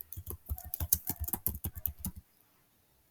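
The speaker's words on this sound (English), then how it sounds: "they're going to type in Squaw Valley" Quick bursts of typing on a computer keyboard, entering a search term into an image search box, loud and close, running for about two seconds before stopping into near silence.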